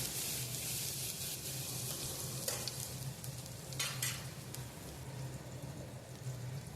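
Bottle gourd and tomatoes are stirred together in a hot pan, with a continuous low sizzle under a few scraping, clinking strokes of a spoon close by and no speech.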